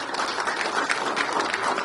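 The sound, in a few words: audience applause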